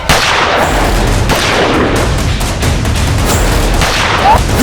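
Gunfire rings out in a staged Hindi TV crime drama: a rapid fusillade of loud, sharp bangs and booms repeats in dense bursts across the whole stretch, with no speech.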